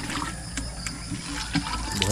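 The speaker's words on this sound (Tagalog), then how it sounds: "Isprayhan natin ng tubig." Water sprays onto pechay plants in a garden, a continuous close hissing spray with small splashes while someone talks nearby.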